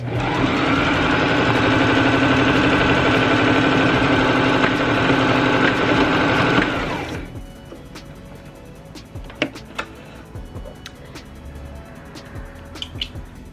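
A sewing machine backstitches the seam of a fabric scrunchie. Its motor whirs loudly and steadily up close for about seven seconds, then stops, and sparse small clicks and handling taps follow in near quiet.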